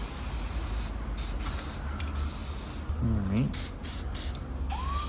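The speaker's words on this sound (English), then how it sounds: "is so delicately using brake clean here" Brake cleaner aerosol sprayed in a steady continuous hiss onto a Holley carburetor from an M715 military truck in a workshop, with short bursts and pauses while someone speaks briefly.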